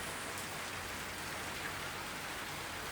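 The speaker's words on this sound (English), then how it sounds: "We're caught in a rainstorm." Heavy rain pours steadily during a rainstorm in Bali, a dense, even hiss of drops striking surfaces that fills the whole stretch without a break.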